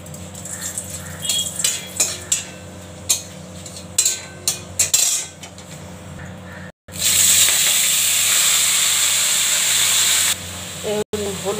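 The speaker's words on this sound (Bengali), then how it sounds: "এবার শাক ভাজা, শুকনো লঙ্কা আর হচ্ছে কালো জিরা ফোড়ন দেবো।" Dry red chillies and nigella seeds tempering in hot oil for saag bhaja, a loud steady sizzle that bursts in after scattered kitchen clatter and crackles continuously near the mic.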